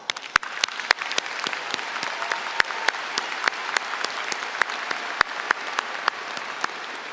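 A high school graduation audience applauds the parents and families of the Class of 2019, with scattered claps standing out from steady, moderately loud crowd clapping that continues throughout.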